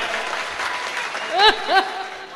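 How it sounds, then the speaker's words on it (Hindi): An audience applauds with both hands raised at a Hindi comedy poetry show, clapping steadily beneath a voice that carries over the crowd, which swells briefly near the end. "एक बार दोनों हाथ ऊपर उठाकर तालियां बजाओ यार।"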